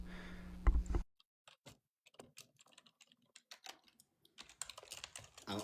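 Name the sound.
typing on a computer keyboard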